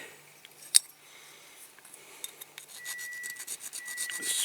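A small Dinky Toys MG Midget model part is filed smooth by hand in quiet, scattered rasping strokes with a few sharp scrapes, then quicker, denser rubbing toward the end.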